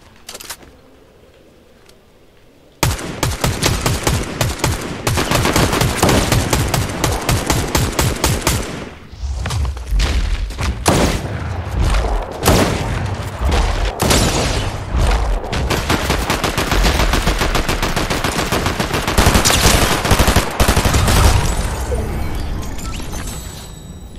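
Fortnite gunfire: after a quiet start, a sudden eruption of rapid automatic shots and bursts fills the rest, loud and near, with dense crackling volleys and brief pauses between strings of fire.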